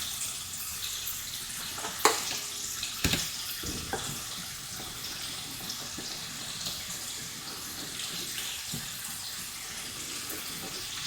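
Stock pours into a pot of polenta, a steady soft splashing flow that runs throughout, with a couple of clunks near the start.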